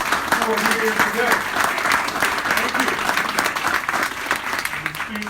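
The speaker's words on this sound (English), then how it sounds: "Let's give a round of applause to all of our business owners who are here today." Steady applause from an audience at a small business award event honoring local business owners, continuous dense clapping with faint voices mixed in.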